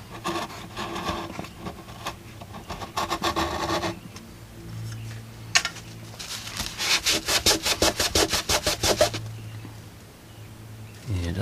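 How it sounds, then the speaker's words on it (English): Old foam surround is being scoured off an Acoustic Research AR8 speaker woofer with a scourer, giving bursts of rhythmic rasping rubbing strokes, close and fairly loud, with pauses between passes. "The scourer is slowly taking it off."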